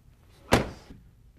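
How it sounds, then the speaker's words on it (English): A car door is shut once on a new car, giving a single solid thunk that rings briefly and fades, close by and alone. "Let's see what happens when I shut the door."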